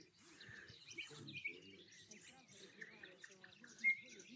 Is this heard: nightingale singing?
yes